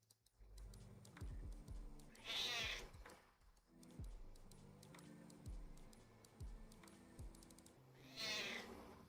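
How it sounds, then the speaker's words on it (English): A cat meows twice indoors, each call a clear, moderately loud wail several seconds apart, heard over soft keyboard typing and ticking clicks in a quiet room. "Shout out to the cat over here talking shit."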